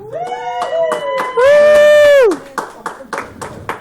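A comedy club crowd at Whiskey River in South Point, Ohio claps in scattered, steady bursts for the earlier comics, broken by one loud sustained whoop in the middle before the clapping thins out.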